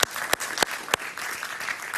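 Studio audience on a Spanish-language talk show applauding, a short burst of dense clapping with a few sharp individual claps standing out, no talk over it.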